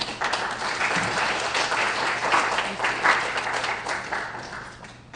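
An audience at a presentation on mood disorders and nutrition applauds to welcome Dr. Monique Aucoin, a steady wash of clapping from many hands that holds for several seconds, with faint talk underneath.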